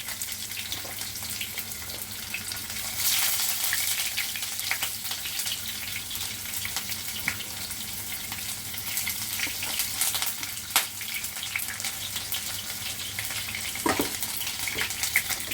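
Chopped onions sizzle in hot oil with two bay leaves for a festive Bengali mutton curry, a steady close crackling fry with occasional stirring clinks, no talk.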